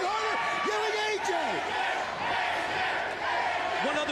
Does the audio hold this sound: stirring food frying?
no